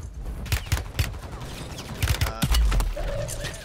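Gunshots in Call of Duty Warzone, a series of sharp, loud cracks fired in quick bursts, some echoing reports and a heavy low thump near the end, close and punchy, with no speech.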